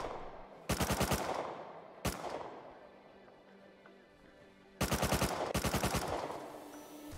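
Enemy gunfire in a modded video game: three loud bursts of rapid automatic shots with a single sharp crack between them, each trailing off into echo.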